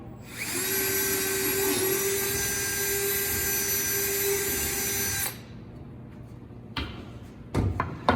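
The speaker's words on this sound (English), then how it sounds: "Get your drill straight up and down in all directions." A power drill whines steadily at high speed for several seconds, then cuts off, followed by a few faint knocks and handling sounds.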